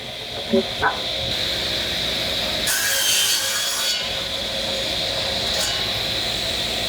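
A furniture-making machine saw cuts through wood, a steady rasping hiss with a louder, brighter burst of cutting in the middle, while a few faint knocks sound at the start.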